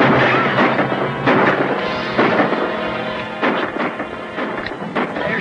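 A loud volley of rifle shots from a 1940 western film, several heavy booming cracks spaced across the scene with rumbling echoes between them, close and dominant.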